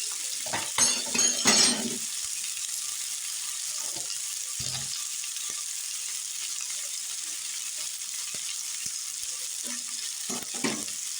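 Onions fry in a pan ahead of adding leafy greens, a constant soft sizzle beneath clanking stirring strokes, busiest at the start and again near the end.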